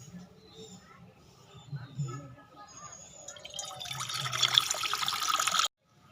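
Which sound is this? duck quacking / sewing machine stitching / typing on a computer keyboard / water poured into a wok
water poured into a wok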